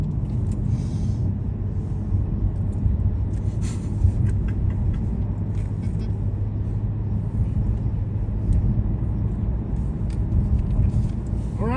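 A car driving along a road in Mississauga, Ontario, heard as a steady, continuous rumble of engine and tyre noise throughout, fairly loud with no clear speech over it.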